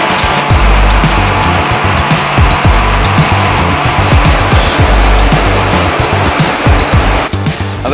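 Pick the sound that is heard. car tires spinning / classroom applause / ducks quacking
car tires spinning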